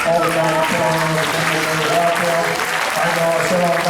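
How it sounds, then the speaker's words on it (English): A crowd at a county fair pig show breaks into a big round of applause, thick continuous clapping over a steady humming tone beneath. "a big round of applause"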